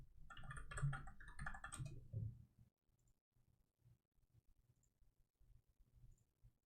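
Quick bursts of typing on a computer keyboard clatter close by for a couple of seconds, then give way to sparse, faint taps and near silence.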